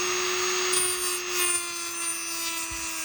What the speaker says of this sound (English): So what I need to do is get the old Dremel and just round off those corners.